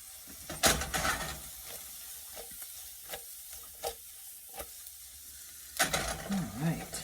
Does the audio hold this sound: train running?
no